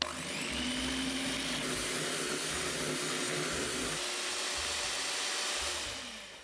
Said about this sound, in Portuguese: Agora eu vou bater até virar um chantilly.